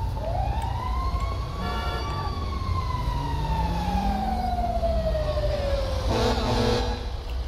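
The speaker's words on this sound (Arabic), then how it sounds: "هو صوت عربية المطافي بقى اهي" Fire truck siren in the video game GTA V, a long wailing tone sweeping slowly downward over steady engine rumble, loud and close, with a brief burst of extra noise near the end.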